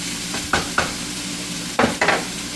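Beef stir fry stirred in a hot pan while it sweats, a steady low sizzle broken by four sharp scraping stirs, two close together early and two more near the end, with no talk.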